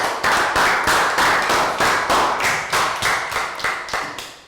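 A classroom group claps a round of applause in a brisk, steady rhythm of about a dozen sharp, even beats, close and fairly loud with no talking.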